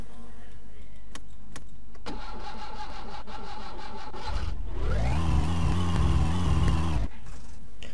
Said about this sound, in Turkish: Bas lan marşa.